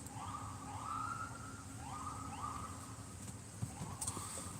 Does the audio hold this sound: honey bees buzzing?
no